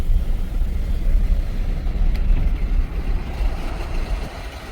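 A Chevy Suburban with an awful-sounding fault, heard from outside as a steady, loud low engine rumble with a rough idling drone and no talking.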